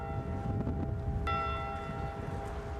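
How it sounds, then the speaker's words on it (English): A ship's bell rung in memory of the Edmund Fitzgerald crew, a single clear metallic strike that rings out and decays slowly over a steady low background hum. "they will once again ring the ship's bell 29 times to honor them"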